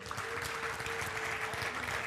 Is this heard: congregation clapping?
yes